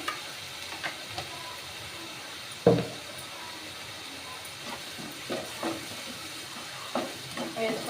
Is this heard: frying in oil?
yes